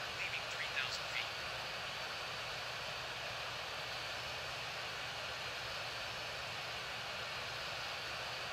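A Jet Airways airliner rolls for takeoff at Heathrow in Real Flight Simulator, its engines a steady, fairly faint roar and whine. A voice speaks softly underneath.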